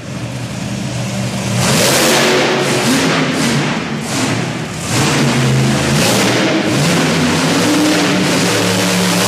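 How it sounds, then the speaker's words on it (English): A monster truck's big engine roars loudly and surges in waves, revving up and down with a deep rumbling growl close by. "Monster truck."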